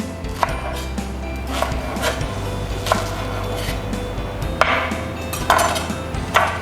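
Knife chopping Chinese broccoli stems on a cutting board while cooking pad see ew, a series of separate sharp close chops at an uneven pace, with a low steady hum underneath.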